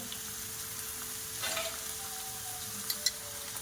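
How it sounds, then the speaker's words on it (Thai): Rice goes into a pan after fried shrimp and is stir-fried. A faint, steady sizzle carries a brief scrape partway through and a couple of small clicks near the end, with no talking. "ใส่ข้าวลงไป ข้าวไปผัด"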